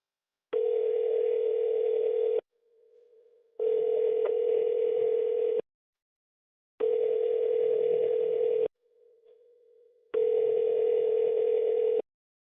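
A phone call rings out through the handset, four long evenly spaced ringback tones separated by short pauses, clear and alone before the line moves to voicemail.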